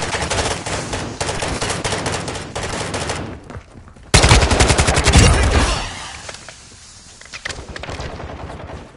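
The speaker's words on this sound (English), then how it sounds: "Take cover! I'm taking fire!" Rapid automatic gunfire in the video game Warzone DMZ, dense loud bursts that pause briefly, then a heavy close barrage with booming impacts before fading into lighter scattered shots.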